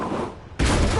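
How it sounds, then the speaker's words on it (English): A single loud gunshot bursts out at a skeet target in the Marvel's Spider-Man game, cutting sharply over softer background game sound and ringing on briefly. "Is this how modern militaries do skeet shooting?"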